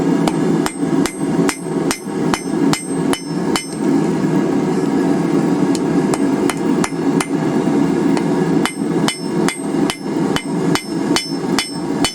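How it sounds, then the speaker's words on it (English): Hot wrought iron ring hammered at a forge: steady, loud, evenly spaced blows ring out close up, a brief quieter stretch in the middle, then the rhythmic strikes resume with a constant forge roar beneath. "So, back in the forge, work on this last bit"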